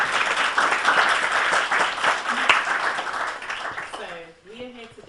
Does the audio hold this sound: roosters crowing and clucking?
no